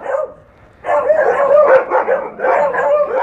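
Dogs at a dog farm barking close and loud, a short bark followed by a dense run of overlapping barks and yips after a brief pause.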